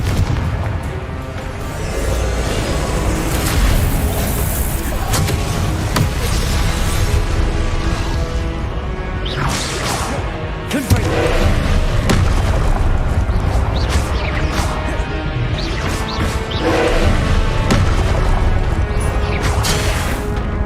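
Confringo blast spells exploding in the video game Hogwarts Legacy, repeated booming blasts and crashes in a loud, busy battle soundscape with game music underneath.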